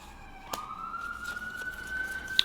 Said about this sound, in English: Let's wait until the ambulance goes by.